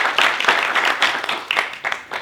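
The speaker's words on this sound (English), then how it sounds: "You guys should hold the clapping till the end." An audience claps briefly in scattered, uneven bursts, fairly close and moderately loud, with no voices over it.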